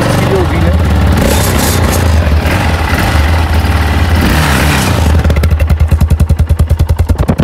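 A 2015 Yamaha XT660 single-cylinder motorcycle runs loud and close, idling with a steady low thump. Near the end it slows into distinct, spaced pulses, and someone talks over it.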